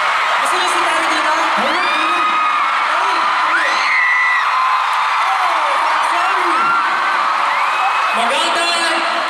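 A large concert crowd in Manila screams and cheers loudly and continuously for a Filipino boy band, with high shrieks and whoops rising above a dense roar.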